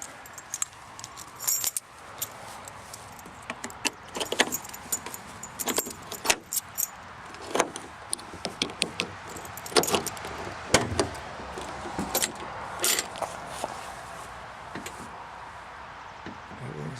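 Keys jangle and click in a 1967 Mercury Cougar XR7 trunk lock as it is opened, a run of sharp close metallic rattles and taps against a low background, with a voice in places.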